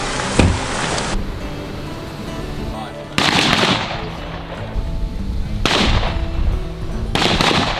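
SAKO S20 rifle gunshots at an outdoor big game shooting range: a handful of sharp, loud reports spaced a few seconds apart, each with a long echoing tail, while people talk in between.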